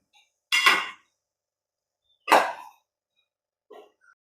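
Scalded gooseberries being stirred in a pot for pickle, heard as two short clattering scrapes of a spoon against the pot, about two seconds apart, with a fainter third knock near the end and quiet in between.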